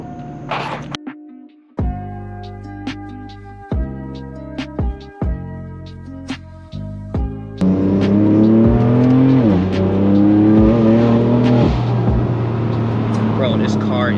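A loud tuned BMW M4 engine revs in repeated short blips with sharp cutoffs, then settles into a sustained roaring drive, while a voice speaks over it.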